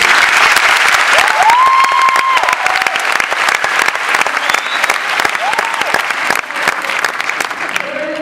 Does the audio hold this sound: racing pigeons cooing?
no